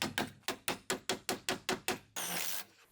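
Nine sharp, evenly spaced hammer blows drive nails through the flange of a Broan heater bathroom vent fan into a wooden joist, close and crisp, ending in a short scraping rustle.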